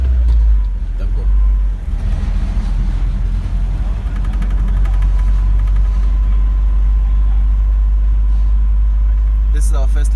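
A car engine hums low and steady on the road during a driving lesson. It swells briefly early on, then holds an even drone with faint rattles and a short click near the end, and a voice talks over it.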